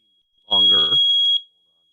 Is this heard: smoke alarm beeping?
yes